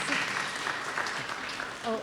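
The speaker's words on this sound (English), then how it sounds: "a well-deserved applause for a wonderful show" At a lecture introduction, an audience gives sustained applause, a steady wash of clapping heard alongside a speaker's voice, with a brief burst of talk near the end.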